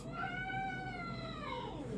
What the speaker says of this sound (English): That's him having a go at the other cats.